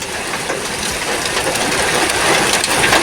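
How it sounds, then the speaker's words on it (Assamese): Steady, dense rain hiss fills the clip, loud and continuous with no voices. "এই মুহূৰ্তত লখিমপুৰত বৰষুণ হৈ আছে"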